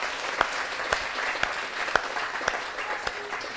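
Audience applause at a talk, a short burst of steady clapping from a crowd, moderately loud and close.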